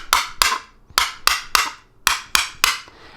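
A plastic toy hammer strikes pegs on a peg board, about eight sharp close knocks in an uneven rhythm, loud and alone with no talk.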